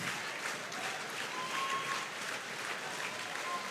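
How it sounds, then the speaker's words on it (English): A wrestling crowd at a 2CW event claps and cheers for the Backseat Boyz tag team, steady and moderately distant, with scattered whistles over the applause. "And here comes the crowd for the Backseat Boys."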